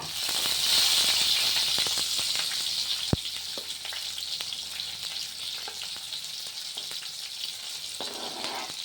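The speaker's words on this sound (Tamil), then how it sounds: "கடுகு போட்டு கடலப்பருப்பு போடுங்க." Mustard seeds and chana dal fry in hot oil in a home kitchen, giving a steady close sizzle with scattered pops and crackles throughout, with no talking.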